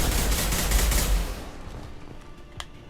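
Rapid gunfire alongside Archangel in Mass Effect 2 rattles loud and close for about a second before cutting off into quieter ambience with a single sharp click near the end.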